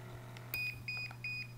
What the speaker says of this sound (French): on entend le bip bip bip bip